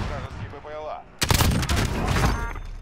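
Gunfire in Call of Duty Warzone on PS4: after a moment of talk, a loud, close burst of rapid shots erupts and keeps rattling on to the end.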